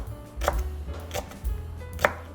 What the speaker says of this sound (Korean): 대파는 머스타게 이렇게 썰어 주시면 되고요.